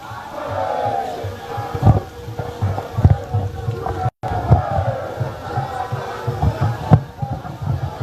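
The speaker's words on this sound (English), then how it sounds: "shall we appreciate His Excellency, the President of the Republic, with another big round of applause" Large crowd at a Ghanaian state event applauding and cheering the President of the Republic, a loud, sustained roar of clapping and shouting with rhythmic thumps, briefly cut off midway before resuming.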